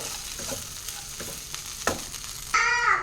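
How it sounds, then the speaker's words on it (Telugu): Okra (bendakaya) fry being stirred in a pan, a steady soft sizzle with scraping strokes and one sharper clatter near the middle, then a louder burst of frying toward the end; no talking. "దాన్ని కలుపుతున్నా"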